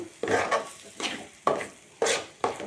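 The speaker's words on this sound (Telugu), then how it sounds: "నెయ్యి వేసుకుని బాగా కలుపుకోవాలి." A spoon stirring a pearl millet mixture with ghee in a pan, in five rhythmic scraping strokes roughly half a second apart, close and fairly quiet, with no talking.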